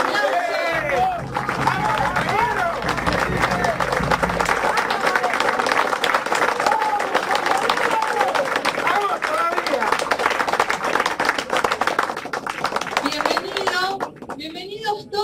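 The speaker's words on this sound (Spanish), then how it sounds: "Un fuerte aplauso." Loud crowd applause at a Peronist political gathering with dense, steady clapping and some cheering, sustained for most of the stretch before tapering off near the end.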